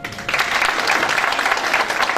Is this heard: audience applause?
yes